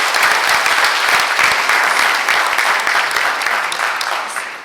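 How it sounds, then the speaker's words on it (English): Sustained applause from an audience at a candidate forum in Los Angeles, steady and dense throughout, loud and close with no voices on top, tapering slightly toward the end. "So if we can get another round of applause for everybody that did this."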